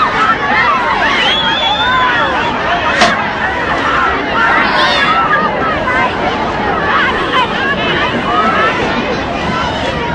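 A dense crowd murmurs and chatters as the president works his way through it shaking hands in 1963, a continuous loud babble of many voices heard close up.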